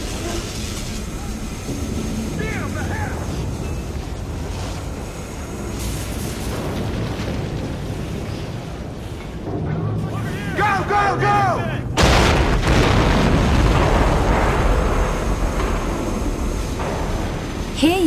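Heavy explosions rumble and crash aboard a burning ship during the Pearl Harbor bombing in the video game Medal of Honor Rising Sun, growing louder with a sharp blast near the end amid continuous fire roar and shouting voices.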